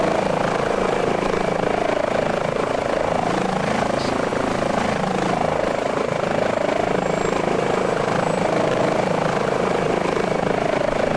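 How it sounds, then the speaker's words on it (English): An H145 helicopter in Microsoft Flight Simulator has its second engine starting, a loud, steady turbine whine and rotor drone that holds constant throughout with a faint high tone on top, and no speech. "All right, starting engine 2."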